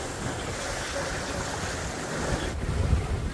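Wind blowing across a heeling sailboat on the Chesapeake Bay, a steady rushing wind noise against the microphone with water sloshing, brief gusty buffets near the end.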